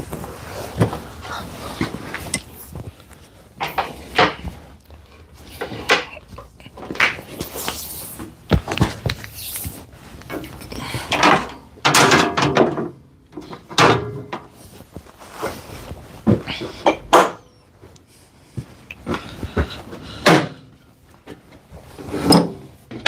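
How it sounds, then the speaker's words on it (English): A wood jointer being unhooked and slid back into storage behind a door in a carpentry shop: a series of scattered knocks, thunks and scraping slides of varying loudness, some sharp and close, spread across the stretch. "we're going to unhook the joiner and slide it back into its location, which is behind that door"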